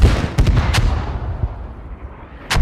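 Mortar rounds in a tactical shooter match, deep heavy booms and impacts: a few loud thumps early, a rumbling tail, then another sharp blast near the end, with no talking.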